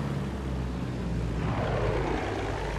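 A propeller warplane engine in Battlefield 1 drones loudly and steadily, its pitch shifting slightly midway as the aircraft turns, with no voices.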